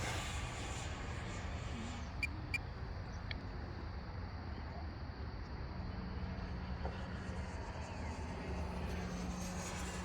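An Xfly T-7A Red Hawk RC model jet airplane flies on a windy day, its steady engine roar continuous and fairly loud throughout, with wind noise mixed in.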